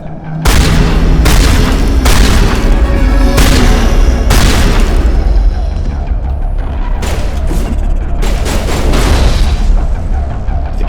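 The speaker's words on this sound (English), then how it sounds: "These grenades don't work right" Grenade explosions in Mass Effect 1 Legendary Edition: repeated loud, booming blasts with heavy low rumble burst one after another over a steady din of combat noise, close and dense throughout.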